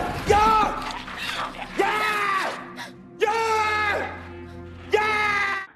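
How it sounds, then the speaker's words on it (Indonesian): A man yells from his apartment to draw zombies away in the 2020 Korean zombie film Alive: several long, strained shouts in separate bursts, loud and close, with a low hum beneath. "Dia pun berteriak dari apartemennya untuk memancing para zombie agar tidak mengejar polisi itu."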